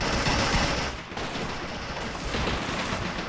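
Dense bursts of gunfire from the Men of War: Assault Squad 2 video game, an online battle: rapid overlapping shots and machine-gun rattle, loud and close, with a brief lull before the firing resumes.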